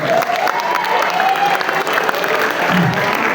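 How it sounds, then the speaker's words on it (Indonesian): An audience at a school inauguration ceremony gives a loud, sustained burst of applause, many hands clapping densely throughout, with a few faint cheers and voices mixed into the crowd noise. "Kita beri tepuk tangan yang luar biasa."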